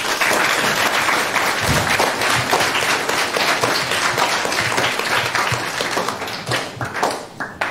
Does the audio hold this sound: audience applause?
yes